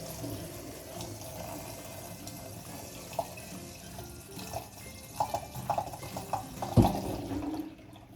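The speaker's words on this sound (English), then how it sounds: "So dump the water out." Water from a can of hominy being dumped out into a sink, a steady running splash with a few louder gurgles and a heavy slosh near the end before it stops.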